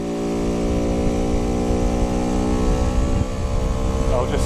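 A Bullit Hero 50cc motorcycle labours uphill with a loud, steady engine drone whose harmonics hold level, then shift and climb near the end as the revs change.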